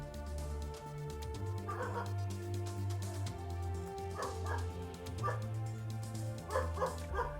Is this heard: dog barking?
yes